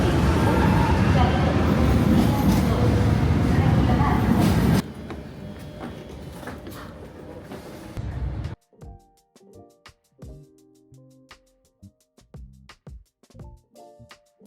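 A loud, steady rumble of a moving regional train from Barcelona to Girona fills the first seconds, then drops to a quieter hum before giving way to scattered clunks and knocks.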